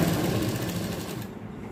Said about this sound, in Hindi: और इस तरीके से हम सिलाई लगाएंगे